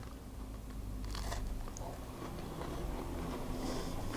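Quiet crunching bites and chewing of a dried blueberry and oat cookie, firm outside and chewy inside, a few soft crackly bursts close to the mouth with no talking.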